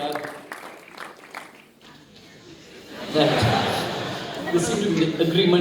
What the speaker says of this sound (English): Another round of applause, ladies and gentlemen, as Akhil joins an elite group of Best Actors over the years.